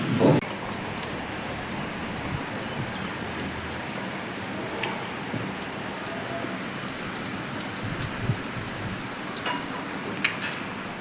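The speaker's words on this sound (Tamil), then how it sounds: "எங்கள் ஊரில் எப்படி மழை பெய்யுதுன்னு காட்டுறேன் உங்களுக்கு" Steady evening rain in a Tamil village, a continuous broadband hiss of drops on the ground and compound surfaces, with sharper close patters breaking through the even wash.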